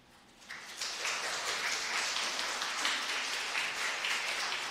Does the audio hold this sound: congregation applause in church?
yes